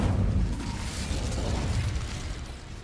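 An Incendio fire spell cast in Hogwarts Legacy bursts out as a dense, roaring whoosh, loudest at the start and then sustained as a rumbling, crackling rush for a few seconds.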